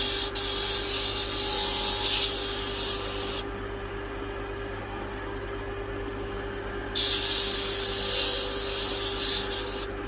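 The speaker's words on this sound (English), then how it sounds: "our initial sand on the disc sander with 180 grit, and I'm going to take a lot of this epoxy off." Disc sander with 180 grit abrading epoxy off a mesquite wood slingshot: a loud, close, rasping scrape, which eases to the motor's quieter steady whine for a few seconds and then resumes as the piece is pressed back against the disc.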